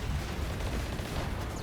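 Punisher cannons in the colony game Rimworld blast away in a loud, continuous roar of heavy gunfire and booming impacts that fill the whole moment without a break.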